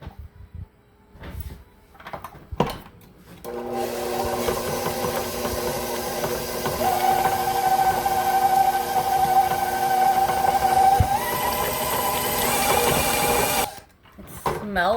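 An electric beater whirs steadily through a white cheddar cranberry cheeseball mixture in a kitchen, a close mechanical hum that starts after a few knocks and clatters and runs for about ten seconds before cutting off.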